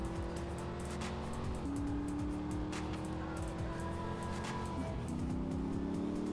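A Ferrari sports car accelerating in the GTA video game, its loud engine holding a steady high drone that climbs through two gear shifts, heard alone without talk.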